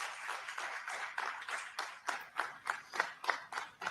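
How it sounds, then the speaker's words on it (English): Scattered audience applause at a live comedy talk show, individual claps clearly separated and building into a steady rhythmic patter, moderately close and with no talking over it. "Well-deserved applause."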